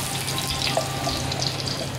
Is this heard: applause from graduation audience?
no